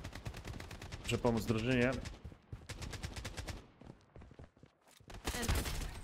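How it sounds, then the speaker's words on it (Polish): Rapid bursts of gunfire in the game Blood Strike crackle in quick repeated volleys, mixed with a brief voice and some synthetic sound effects. "O, ale gdzieś tu się strzały odbywają."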